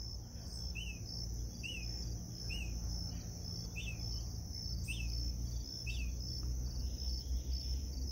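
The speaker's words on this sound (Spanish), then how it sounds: "el sonido de las aves cantar" Birds call in a forested ravine, short chirps repeating every second or so over a constant high insect trill and a low background rumble, all fairly faint and distant.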